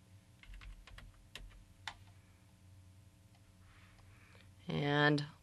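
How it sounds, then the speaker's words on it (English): A computer keyboard typing text in Fireworks CS5 gives a scatter of soft, close key clicks, faint and sparse at first, then a brief louder burst, with a person talking over it. "if I type out, let's say, a large P here"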